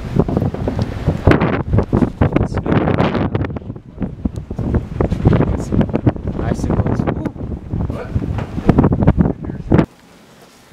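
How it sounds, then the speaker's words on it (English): Strong wind roars and buffets the microphone atop a mountain fire tower on Yellow Mountain in North Carolina, loud gusts pounding continuously for about ten seconds before dropping away near the end. "And it is windy in America."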